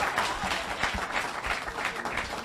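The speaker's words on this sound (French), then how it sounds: "On applaudit." A crowd at an evening Christmas Caribbean singing contest applauds in a moderate, somewhat thin round, with individual claps standing out in the steady patter and slight swells of intensity.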